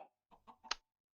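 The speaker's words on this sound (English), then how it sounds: "I hear a lot of chickens." Chickens cluck in the block game Minecraft, a few short close bursts of fowl calls separated by brief gaps, with another starting at the end.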